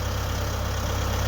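A tractor engine runs steadily near a sawmill, a continuous low idling rumble with even pulsing, no voices.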